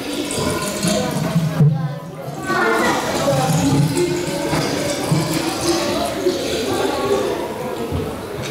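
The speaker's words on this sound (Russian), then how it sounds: "такой вот звук наливающейся воды" Water poured into a vessel, a continuous splashing gurgle with resonant tones that climb in pitch as it fills, briefly interrupted near the start, then resuming steadily and fairly close.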